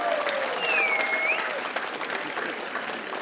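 Crowd applause at the outdoor opening of the "Fregate Valzivs" fountain, a steady dense clapping sustained throughout, with a faint whistle-like tone sweeping through early on.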